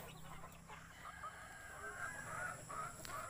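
A bantam chicken clucks softly in a backyard, a few faint short calls over steady outdoor background noise.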